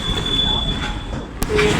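A close, steady rumble from a departing train with a thin metallic wheel squeal running over it and a single sharp clack near the end.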